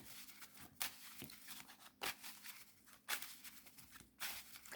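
A deck of Magic-style game cards being shuffled by hand in a few quiet bursts, each a sharp riffling flutter spaced about a second apart, close but faint, with soft rustling between them.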